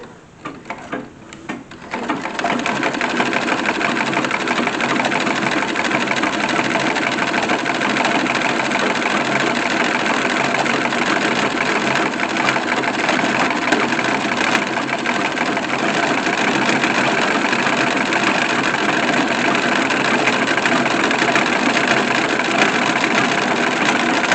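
A vintage Singer sewing machine, a wedding gift from generations back, stitches a run and fell seam on wedding underpinnings. It whirs steadily and close-up for over twenty seconds after a brief start, with no talking.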